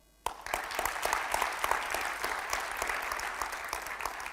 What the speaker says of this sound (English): Can we have an applaud for her?